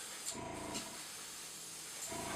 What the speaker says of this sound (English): On the bottom side of the tree, not the top side, we're going to come in and spray khaki.